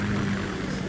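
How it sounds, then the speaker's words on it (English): Ka-60 Kasatka Kamov helicopter in the Metal Gear Solid 2 video game, a steady droning rotor and engine hum with a low throb, continuous and moderately loud throughout the short moment. "Kasatka? Kamov chopper, right?"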